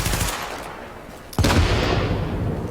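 Submachine gun fire in The Division, a sustained rapid burst that starts abruptly and loudly midway, over a noisy background rumble, with no talk.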